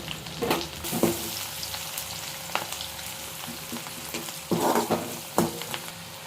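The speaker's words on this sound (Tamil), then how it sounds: "இப்போ இந்த வெங்காயம் வந்து நல்லா ப்ரௌனிஷாக வதங்கி வர வரைக்கும் நல்லா வதக்கிக்கலாம்" Onions sautéing in a pan for chicken gravy, a steady close sizzle with occasional louder clatters of stirring at irregular intervals, no voices.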